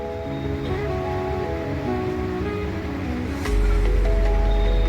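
Evening waves wash onto a harbour beach in a steady, broad surf hiss, with a low rumble swelling louder near the end and faint hums and distant activity in the background.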